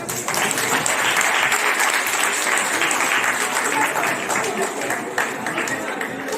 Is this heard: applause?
yes